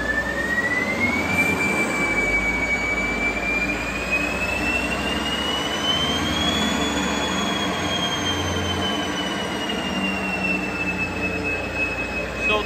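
A stage-one chip-tuned Škoda Rapid 1.6 diesel with 66 kW and 90 hp runs under load during a tuning test. It gives a loud, constant drone with a high whine that slowly rises and falls, and no one talks.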